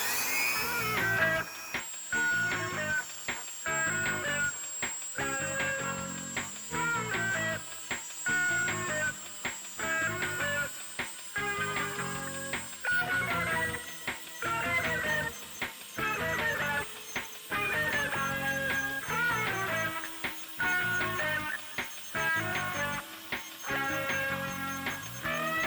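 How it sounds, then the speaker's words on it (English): A power tool grinds steadily through sculpting material while shaping flared boots on a customized action figure, a continuous whirring buzz broken by many short pauses and restarts, close and loud with no talking. "And back to grinding."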